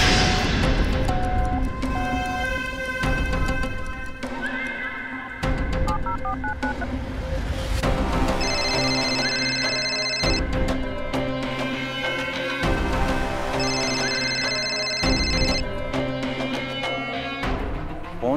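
A phone rings with a loud electronic ringtone, its bright melodic tones repeating in steady bursts over dense background music, with no one speaking.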